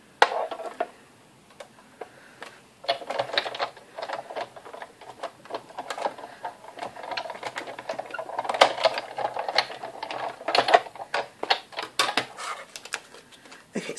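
A die cutting machine whirs and ticks steadily as it runs stamped soft suede cardstock through for a wedding card, a continuous mechanical rattle close by, no speech.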